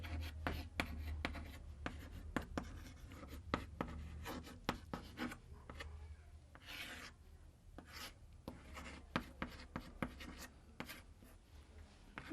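A teacher writes on a board in a classroom, producing repeated scratchy strokes and taps in an uneven rhythm, close and fairly faint, with short pauses between words and no speech over it.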